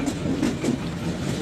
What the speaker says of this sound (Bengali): এই মাল ট্রেন, এটা দেখতে পাচ্ছেন